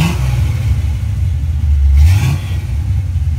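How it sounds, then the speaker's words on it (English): A powerful 1979 Pontiac Trans Am engine rumbles steadily nearby, then is revved hard in a brief surge before dropping back to a heavy idle. "Go ahead and crank that up for us."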